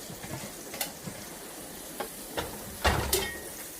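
Pork chops browning in grease in a pan on a stovetop, a soft steady sizzle with scattered light ticks and pops, and a couple of louder clanks near the end.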